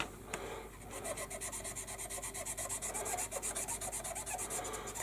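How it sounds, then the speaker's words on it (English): Sanding softened filler on a 1/72 Airfix B-17G plastic model kit: quiet, rhythmic rasping strokes at close range, steady back-and-forth rubbing with no talk. "And take your sander. Now that it's soft, it's going to come right up."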